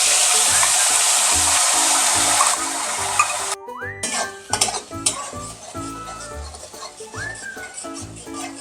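A paste of fried onion, ginger, garlic and green chillies sizzling in a pan for a Bengali rohu fish curry, with a loud continuous fry at first, then quieter crackling broken by scraping and clinking of a spatula against the pan.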